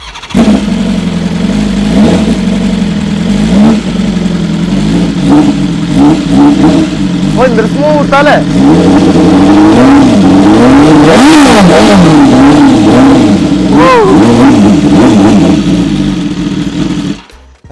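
A BMW S1000RR sport motorcycle engine revs hard and close, its pitch climbing and falling through repeated throttle blips over a loud continuous roar, with a few brief voices and a cheer.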